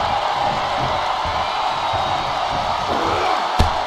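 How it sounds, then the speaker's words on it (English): Video-game wrestling crowd in WWE 2K25 roaring steadily as a broadband wash throughout, with a brief sharp impact near the end and faint commentary-like voices underneath. "Taking a moment to get pumped off of this crowd's incredible energy."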